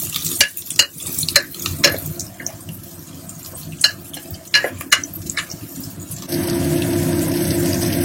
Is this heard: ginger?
yes